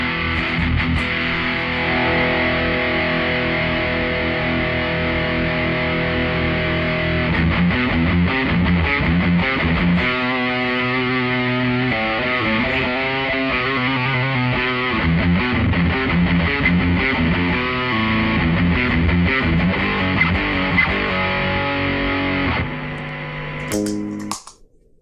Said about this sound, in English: Let's see if we can get a proper fucking metal sound out of this guy.